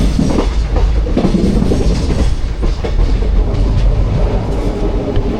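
A train rumbles past close by at a train station, a steady loud roar of wheels with rhythmic clickety-clack over the rails, no voices.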